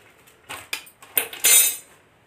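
A spoon knocks and scrapes through sun-dried raw mango pieces mixed with salt and spices for mango pickle, giving several quick clinks and one longer scraping sweep, close and fairly loud.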